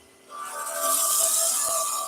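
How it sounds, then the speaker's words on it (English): A spindle gouge cuts into spinning wood on a lathe while rounding over a bead, a close, steady rasping scrape with a faint underlying hum that starts abruptly and continues evenly. "let's go with our spindle gouge"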